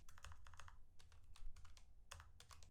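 Quick, light keystrokes tap out a search query on a computer keyboard, a fairly quiet, close-up clatter in uneven bursts with brief pauses between words.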